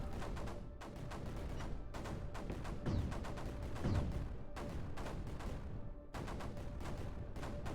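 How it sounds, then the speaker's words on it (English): Missile launchers in Creeper World 4 fire in a steady series of sharp repeated bursts, roughly one every second or so, with a couple of heavier thumps midway, fairly quiet overall. "Oh yeah, this is just missiles."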